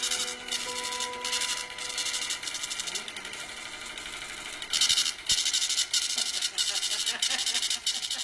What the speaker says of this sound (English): will now cause the voting machine to print out a tape reading the number of votes that it had just read